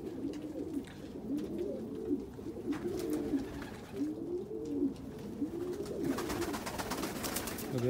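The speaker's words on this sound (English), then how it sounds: "So there's an indigo ballhead Birmingham roller" An indigo ballhead Birmingham roller pigeon coos steadily in a loft, low rolling calls repeating throughout over a constant background hiss, with light scratches and taps near the end.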